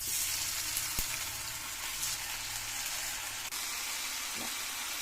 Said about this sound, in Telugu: కూర అరటికాయ ముక్కలు ఇవి వేసుకోవాలి. ఆయిల్లో వేయించుకోవాలి.